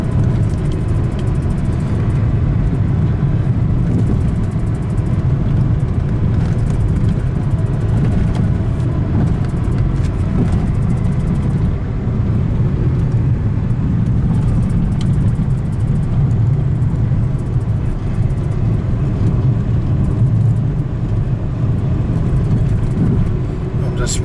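Steady car engine and road rumble from inside a vehicle cruising in fourth gear on a road in Tasmania, continuous and fairly loud throughout.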